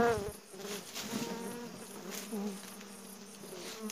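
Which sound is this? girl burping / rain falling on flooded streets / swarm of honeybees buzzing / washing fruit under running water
swarm of honeybees buzzing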